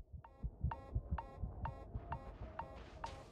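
Heartbeat pulsing in Starfield survival mode as health drops, thuds coming faster across about seven beats, each paired with a high tonal blip over a low steady hum, with no one talking.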